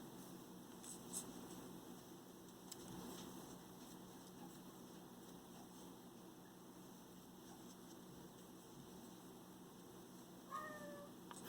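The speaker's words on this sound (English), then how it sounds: "You can probably hear my cat meowing." A single faint cat meow sounds near the end, somewhat distant, after a long stretch of quiet room hiss.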